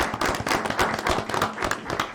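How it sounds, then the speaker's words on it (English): A short burst of clapping from a small group at a city council meeting, uneven individual claps close by for about two seconds. "let's give them a round of applause"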